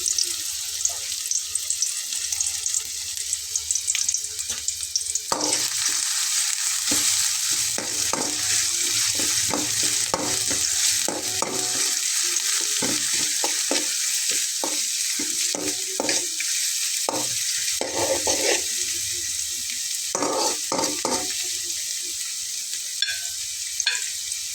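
Onions and crushed garlic sizzle in hot oil in a pan, a loud, steady frying hiss close by, with intermittent clinks and scrapes of stirring throughout.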